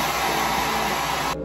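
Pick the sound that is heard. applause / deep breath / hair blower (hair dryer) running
hair blower (hair dryer) running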